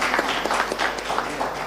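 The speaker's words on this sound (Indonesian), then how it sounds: "Boleh tepuk tangan." Audience applause at an Indonesian government press event, a dense patter of many hands clapping steadily and fairly close for a short stretch, with no talk over it.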